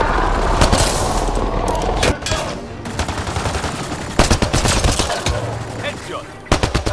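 Bursts of rapid gunfire crack out in a Mass Effect: Andromeda firefight, with loud sharp volleys, short pauses and clustered shots near the end, while faint voices sit underneath.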